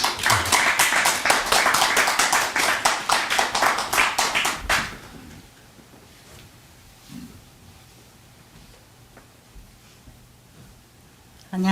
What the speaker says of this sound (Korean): 우리 좀 박수로 좀 환영해 주시겠습니다